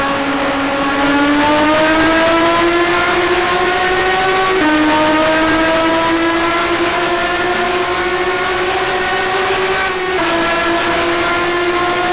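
A loud, high-revving Matra racing car engine in the GTR2 racing video game at Monza holds a sustained whine, pitch climbing in steady steps through gear changes, with no talking.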